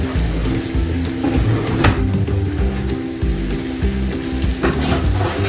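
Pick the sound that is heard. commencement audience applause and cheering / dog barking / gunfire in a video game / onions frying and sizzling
onions frying and sizzling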